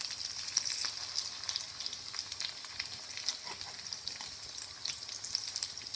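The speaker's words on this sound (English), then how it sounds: "Make sure you fry on a medium flame and turn them over once they have reached golden brown on one side." Rice cutlets fry in a pan over a medium flame, giving a continuous bright sizzle with scattered crackling pops. The sizzle stays steady and moderately loud with no voices.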